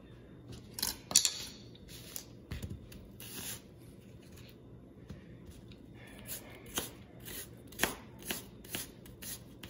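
Knife chopping onions and green peppers on a cutting board for seafood gumbo, with scattered sharp cuts and scraping strokes in an irregular rhythm, close and fairly quiet.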